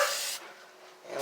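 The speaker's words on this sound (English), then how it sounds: "I'm hitting this inside area up with some rust reformer up in here" Short bursts of rust reformer sprayed inside the body of a 1958 Plymouth under restoration, a broadband hiss at the start, a pause, then a second burst at the end, close and fairly loud.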